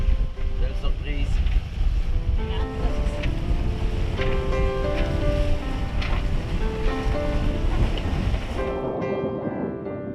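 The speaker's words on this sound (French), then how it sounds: "Mer calme. Vraiment calme." Calm sea lapping around a sailboat at anchor, a soft continuous wash of small waves with light wind, while people talk over it throughout.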